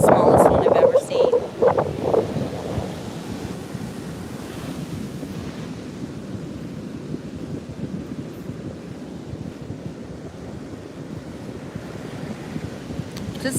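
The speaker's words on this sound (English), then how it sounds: "I could watch these waves all day long" Ocean surf washing onto a beach, steady broadband rush of breaking waves with wind buffeting the microphone, louder in the first two seconds, under a bit of background voice.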